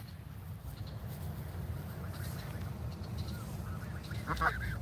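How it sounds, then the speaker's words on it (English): Ducks squabble faintly in the distance at an outdoor protest gathering, a few brief honking squawks rising near the end over a steady rumble of crowd and wind noise. "we got some duck fighting"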